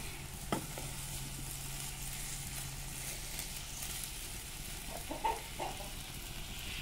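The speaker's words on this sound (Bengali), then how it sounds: "এখানে টমেটো ভাজছি" Tomatoes frying in a pan give a faint, steady sizzle with occasional stirring scrapes, and a few brief animal calls sound in the background.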